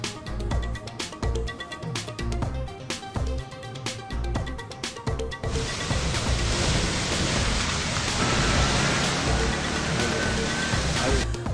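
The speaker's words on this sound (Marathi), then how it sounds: "गारांचा पाऊस, रस्त्यावर पाणी साचल्याने वाहन चालकांचे हाल" A hailstorm with heavy rain lashes Pune's Baner, Aundh, Balewadi and Mhalunge, with water pooling on the roads. A short musical opening gives way to a loud, continuous wash of rain for the rest of the clip.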